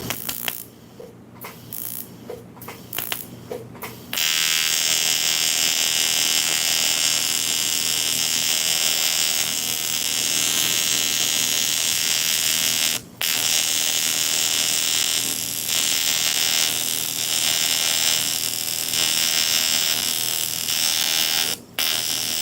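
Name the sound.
TIG welding arc running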